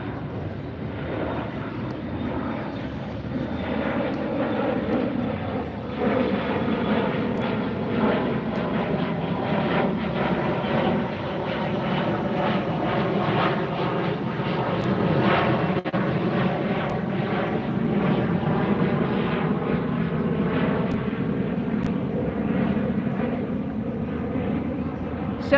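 A Viva Aerobus jet in a special pink livery taking off at LAX, heard from the beach as a steady, loud engine roar that holds for the whole stretch, with a faint voice underneath.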